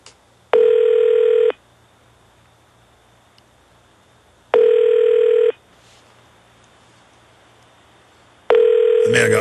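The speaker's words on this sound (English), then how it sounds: "You can let them hear the dialing." Telephone ringback tones heard while calling the EPA live on a radio broadcast: three long steady tone bursts about a second each, spaced roughly four seconds apart over quiet line hiss.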